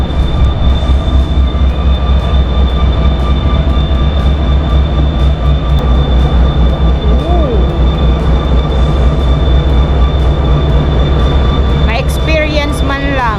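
Steady rumble and clatter of a passenger train ride at the Baltimore & Ohio Railroad Museum, with droning wheel noise throughout, a brief squeal midway and a high whistle-like squeal near the end, with faint talk in the background.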